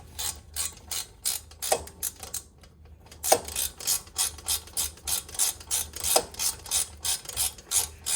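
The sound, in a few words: ratchet tightening BMW brake caliper bolts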